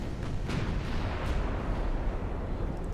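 Dense, continuous naval gunfire in Ultimate Admirals: Dreadnoughts, heavy overlapping booms blending into a loud, steady rumble of battle with no clear gaps between shots.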